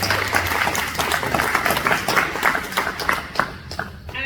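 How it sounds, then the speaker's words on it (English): An audience at a disaster relief news conference in Lansing claps in a steady patter of hands that thins out and fades near the end, fairly close, with no speech over it. "Let's give you a round of applause."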